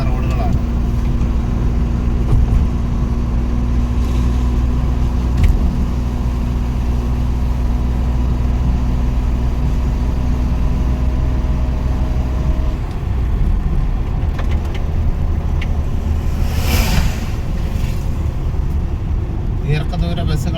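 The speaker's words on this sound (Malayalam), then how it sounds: "ദീർഘദൂര ബസ്സുകളാണ് ഇപ്പോൾ നമ്മൾ ഈ വഴി കാണുന്നത്" Long-distance buses and other traffic roll past on an accident-prone Kerala road toward Changanassery and Kottayam, a continuous engine-and-tyre rumble that shifts midway, heard under steady talk.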